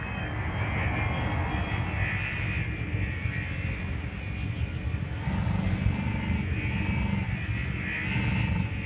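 Spacecraft flying through an orbital structure in the game Elite Dangerous: Horizons, a steady, loud engine roar and whoosh held throughout, with faint tonal chimes coming in near the end and no voices.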